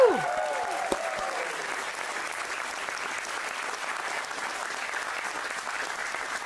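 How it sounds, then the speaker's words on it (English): A crowd applauds steadily for several seconds, dense clapping with a brief whistle at the start, sustained and fairly close. "give a round of applause for our incredible crew filming this"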